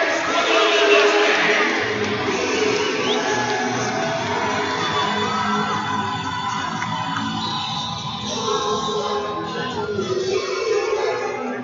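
A large arena football crowd at a Raiders versus SteelHawks game roars and cheers continuously, a dense, steady wash of voices and shouts that swells slightly near the end.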